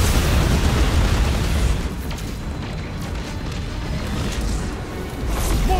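Missile explosions in the video game Destiny 2, a dense, continuous barrage of booming blasts and crashing debris, loud throughout with surges and dips in intensity.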